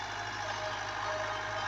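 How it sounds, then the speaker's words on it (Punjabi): A Fiat 640 tractor engine runs steadily on wet, soft farmland in Punjab, Pakistan, a continuous low idling rumble with a faint knock, heard alone at moderate distance. "ਆ ਫੇਰ ਆ ਜੇ ਇੱਧਰ ਟਰੈਕਟਰ।"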